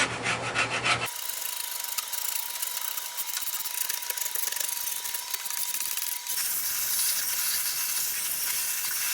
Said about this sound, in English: So all I'm going to do now is scrape it off.